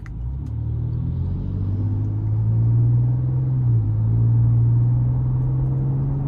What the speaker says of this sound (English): But I love the exhaust note here.